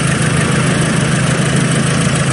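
A Citroen's air-cooled 1220 cc four-cylinder engine, which has no radiator, idles steadily and loudly up close with an even, low drone and no voices.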